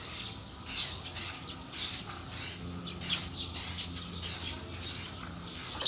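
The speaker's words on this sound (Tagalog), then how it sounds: "ngayon i-sprayhan natin ng samurai yan 1k clear coat yan" Samurai 1K clear coat hisses from an aerosol spray can onto a sanded Toyota Liteace instrument cluster part. Short, close bursts repeat in a quick, fairly regular rhythm of about two per second.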